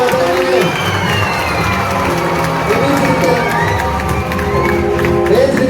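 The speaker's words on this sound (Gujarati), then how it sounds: "જોરદાર તાળી આપણે વધારીએ" A children's audience at a devotional quiz event claps and cheers loudly, a continuous wash of applause with shouts and whoops rising over it for the whole stretch.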